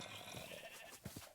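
A sheep in the Minecraft video game bleats a couple of short times over faint background game sounds, near and clear, with no talking.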